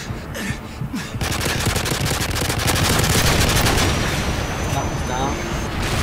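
Video game gunfire, a dense burst of rapid shots and blasts that starts after a second of quieter sound and keeps going at loud, steady intensity.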